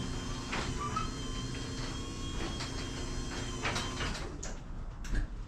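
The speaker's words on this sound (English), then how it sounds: "I'm opening the freaking door" A motorized garage door rumbles and rattles as it opens, a steady mechanical drone with faint clanks, close by and without speech.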